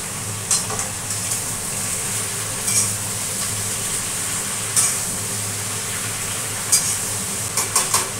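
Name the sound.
stirring Malabar spinach stems with turmeric and sugar in pan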